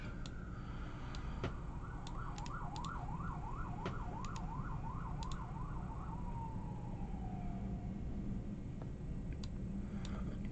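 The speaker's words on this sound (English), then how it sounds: "Emergency vehicles, sirens." Emergency vehicle siren heard in the distance in Miami, a rising wail that turns into a rapid warbling yelp and then fades out over steady background hum and occasional ticks.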